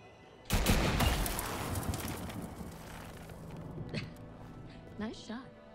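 In the Until Dawn Remake video game, a sudden loud gunshot blast erupts and rings out into a long decaying rumble, followed by faint scattered knocks, with a voice briefly speaking near the end.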